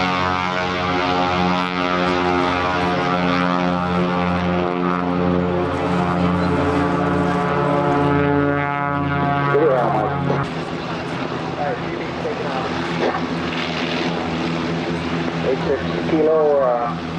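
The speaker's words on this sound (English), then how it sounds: "206 is going to follow the other Cessna and come off the" A Cessna 206 seaplane takes off from a lake at a seaplane fly-in, its propeller engine droning loud and steady, then rising in pitch, while people talk over it throughout.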